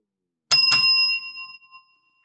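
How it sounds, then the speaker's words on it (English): A tabletop bell, like a hotel front-desk bellhop bell, is struck twice in quick succession, two bright close pings whose shared ring sustains and fades over about a second and a half, alone in silence. "Well, that was a double bell."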